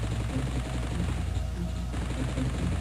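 Rapid gunfire rattles in the Army Men Sarge's Heroes 2 video game, a dense, continuous burst of repeated shots with a low booming undertone and a brief lull midway.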